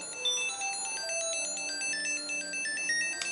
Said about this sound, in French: J'en ai un autre sur mon sac et lui je trouve qu'il sonne pas assez fort.